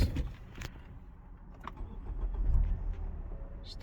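A Ford Fusion engine cranks and catches right after refuelling, settling into a low, steady idle rumble, with a brief jingle of keys near the start.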